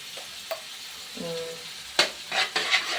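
Egg mixture stirred with a utensil in a dish, giving a few soft scraping strokes and light clinks, fairly close, with a faint sizzle of frying in the background and no talk.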